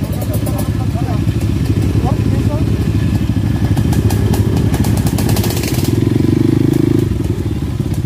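A small 85cc Yamaha YC motorcycle engine idles steadily throughout, a low rumbling putter with people talking over it nearby.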